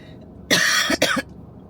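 Two harsh, close coughs in quick succession, a short rasping burst followed by a second one, with quiet before and after.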